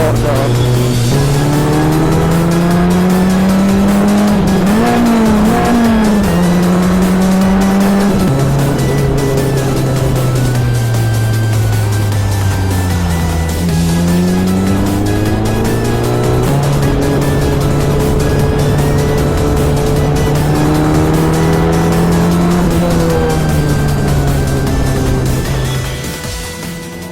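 A single-seater race car laps Silverstone circuit, its engine droning loud and close throughout, pitch rising and falling through gear changes and corners with no pauses.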